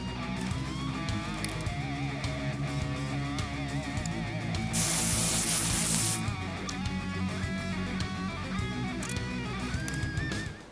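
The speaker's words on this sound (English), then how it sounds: "Use some degreaser and just get it nice and shiny." A short burst of degreaser sprays onto a car's front brake spindle during a drum-to-disc brake conversion on a 1967 Camaro, a hissing blast lasting about a second amid a steady background hum.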